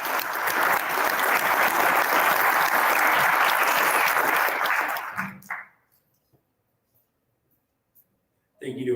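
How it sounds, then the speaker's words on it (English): Audience at an esports state tournament claps for the host in a full, steady round of applause lasting about five seconds, then it stops abruptly into near silence before a voice resumes. "So quick round of applause for our host."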